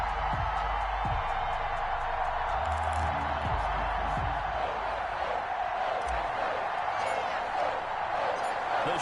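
Sold-out stadium crowd at a Ravens versus Patriots game in an EA Sports NFL football video game, a steady dense roar of cheering that runs loud and unbroken throughout, with a commentator's voice heard early on.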